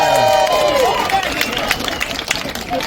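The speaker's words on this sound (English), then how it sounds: "Give her a round of applause." A crowd at Knott's Berry Farm's Ghost Town Alive event in Calico breaks into applause and cheering, a loud, dense wash of clapping that fades slightly over a few seconds, with voices mixed in.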